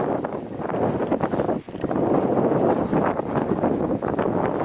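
Strong gusty wind buffets the microphone on a hillside, a loud continuous roar with a brief lull partway through.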